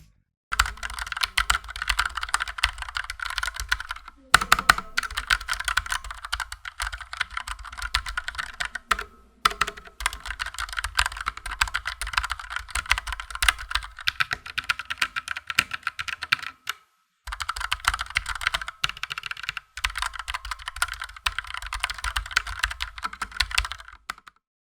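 Typing on an Armaggeddon SMK 9R hot-swappable mechanical keyboard fitted with heavy Black Automo switches: steady, dense runs of close keystrokes with a few brief pauses, no voices.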